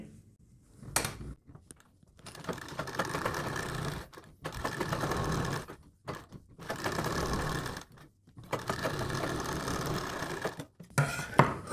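Domestic sewing machine stitching all the way around the neckline of a kurti, running in several bursts of steady mechanical whirring separated by short pauses, fairly close and alone without talk.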